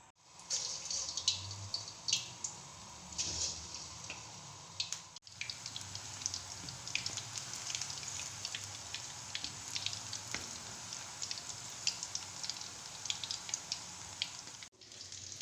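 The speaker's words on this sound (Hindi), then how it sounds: "फिर आपने इनको ना डीप फ्राई करना है, गोल्डन हल्का सा गोल्डन करके निकाल लेना है" Chicken koftas deep frying in ghee give off a steady, close hiss of bubbling oil with scattered crackles and pops, continuous for about fifteen seconds.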